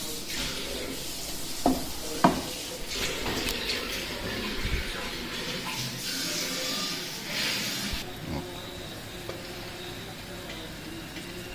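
Garlic frying in a pan while being stirred, giving a steady broadband hiss broken by a few sharp clinks and scrapes of a utensil, with faint background voices.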